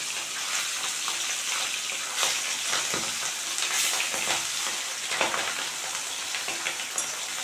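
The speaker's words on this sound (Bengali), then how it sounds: "এখন মাছগুলি উল্টে দেব তো বন্ধুরা মাছগুলি একদমে তাজা ছোট ইলিশ" Small fresh hilsa fish fry loudly in hot oil, a dense, continuous close sizzle with brief sharper bursts and scrapes as the pieces are turned over in the pan.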